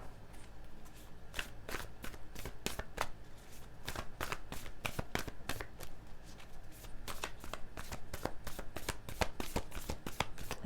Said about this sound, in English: let's pull some oracle cards for you guys